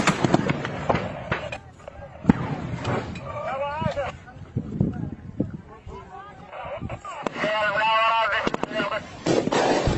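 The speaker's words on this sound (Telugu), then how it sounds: "ఒకసారి అక్కడ బ్లాస్ట్ ఎలా జరిగింది, ఒకసారి దానికి సంబంధించిన విజువల్స్ ఒకసారి చూద్దాం" An attack on a Pakistan army convoy in Balochistan, where repeated sharp blasts and cracks burst out among loud shouting and chanting voices.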